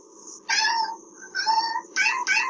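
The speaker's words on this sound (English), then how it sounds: "Meowing and purring." A cat meows three times, each cry drawn out and close, with short quiet pauses between them.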